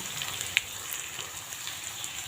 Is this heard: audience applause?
no